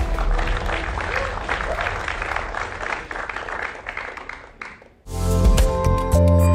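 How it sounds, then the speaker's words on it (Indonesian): Crowd applause at an Indonesian comedy showcase, a broad clapping wash that fades over several seconds and then cuts off abruptly as loud music takes over. "Teman-teman sudah ada 10 yang terpilih, boleh tepuk tangannya dulu."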